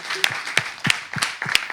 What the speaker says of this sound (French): on va ovationner les responsables de Yass